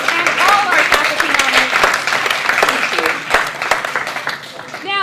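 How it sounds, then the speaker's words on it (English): Audience applause for award recipients at an academic senate meeting, a dense, sustained clapping from a large crowd lasting throughout, with a few voices and cheers mixed in. "one more round of applause for our Charger Award recipients and all our faculty"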